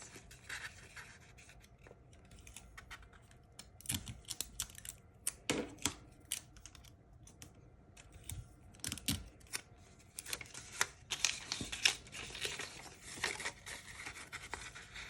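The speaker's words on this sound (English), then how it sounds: "So just tape all of these into circles." Tape is pulled and pressed onto loops of wrapping paper being formed into circles for a bow, giving scattered close crinkles, rips and taps, irregular and fairly quiet, with no voices.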